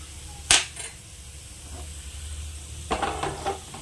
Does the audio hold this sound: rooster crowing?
no